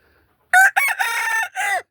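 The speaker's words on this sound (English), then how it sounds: "If you want to go with Mama in the house, you can't be crowing like that." A pet rooster kept indoors crows loudly and close by, one drawn-out call broken into several bursts with short gaps, standing alone with no talk around it.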